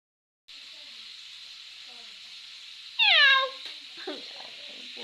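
A cat gives one clear, loud meow over a faint steady hiss, followed by softer rustling and small noises.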